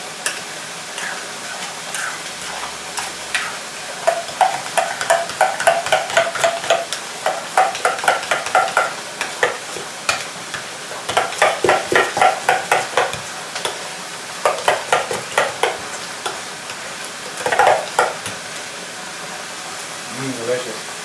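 Ricotta and egg mixed with a slotted spoon in a bowl, a steady run of wet clicking and scraping strokes close by, with a voice speaking briefly over it.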